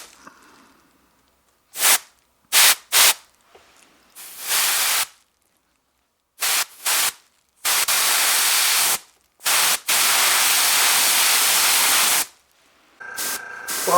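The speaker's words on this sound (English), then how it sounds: "Let me get my airbrush going and I'll be right back." An airbrush sprays paint in short hissing bursts, some a fraction of a second and others lasting a couple of seconds, separated by silent pauses, loud and close.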